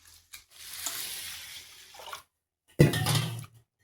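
Ration rice is rinsed in water by hand: two separate bursts of swishing and sloshing, the second one louder, with short quiet gaps between them.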